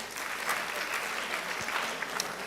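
Applause from an audience at a university gas innovation challenge grand finale, a faint, distant, steady patter of clapping heard alone for a couple of seconds.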